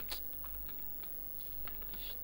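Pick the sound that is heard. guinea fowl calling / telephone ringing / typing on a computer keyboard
typing on a computer keyboard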